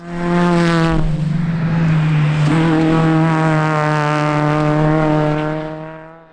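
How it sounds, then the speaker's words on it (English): A Mazda MX-5 race car engine holds a steady high drone at Nutts Corner circuit, with a brief gear change partway through, loud and close before fading slightly at the end. "And another nimble little car that suits the Nuts Corner track is Gregory McMillan's little MX-5."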